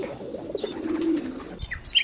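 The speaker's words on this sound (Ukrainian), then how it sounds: "Так, дійсно, це голуб." A pigeon cooing in a low, soft drone that swells and fades over about two seconds, with a brief flutter and a few faint higher chirps near the end; no voices.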